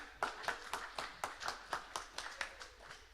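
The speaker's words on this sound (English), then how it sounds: "So give them a round of applause." A few people at a live improv stage show clap in a slow, regular rhythm, roughly four distinct claps per second, each crisp and close, rather than a dense crowd roar.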